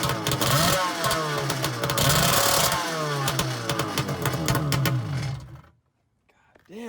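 Kawasaki SC 750 engine fitted with a small Kirker carburetor, running loud and close with revving surges for about five seconds before cutting out, then a brief restart; a voice is heard over it.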